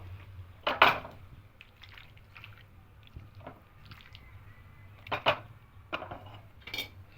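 Chicken pieces being stirred with a utensil in a clay pot of spiced gravy, giving several wet scraping and clattering bursts spaced a few seconds apart against a quiet background with no speech.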